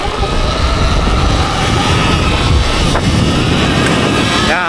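Stock-power Surron electric dirt bike ridden in sport mode, a loud continuous rush of motor whine and wind buffeting that stays steady and close throughout, with no voices.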